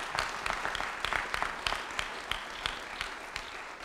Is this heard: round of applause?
yes